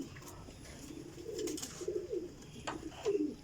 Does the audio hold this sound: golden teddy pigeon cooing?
yes